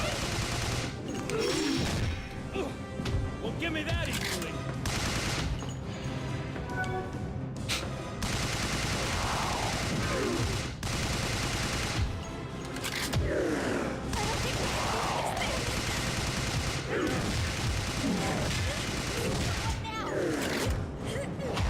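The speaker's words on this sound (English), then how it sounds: "I'll just try to shoot him in the head, I guess." Gunfire rattles continuously in the shooter game Overkill during a boss fight, dense rapid shots and fusillades running throughout with occasional booms, while a person talks over the action.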